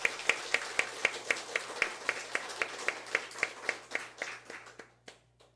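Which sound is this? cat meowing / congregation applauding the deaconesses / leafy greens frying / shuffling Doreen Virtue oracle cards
congregation applauding the deaconesses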